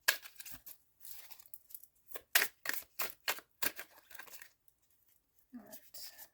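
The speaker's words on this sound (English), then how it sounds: "It's just ginormous and very difficult to shuffle." An oversized tarot card deck is shuffled by hand, giving a run of crisp papery riffles and slaps in quick bursts, close and fairly quiet, with a brief soft voice near the end.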